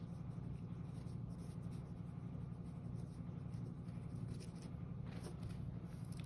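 Faint pen-on-paper writing scratches during a geometry lesson, quiet and continuous under a steady low background hum.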